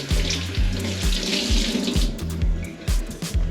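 Tap water runs steadily into a kitchen sink while green peppers are rinsed under it, a close, continuous splashing stream with irregular knocks and thumps of handling underneath.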